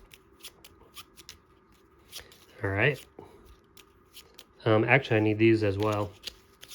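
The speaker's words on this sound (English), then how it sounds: "You just take all your cards that you had discarded, and you're going to shuffle your deck up again" A deck of game cards for the Lord of the Rings: Journeys in Middle Earth board game being shuffled by hand. Soft, papery riffles and flicks continue quietly under short bursts of someone talking.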